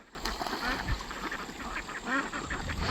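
Several ducks quack in quick, overlapping bursts close by, with soft outdoor background noise.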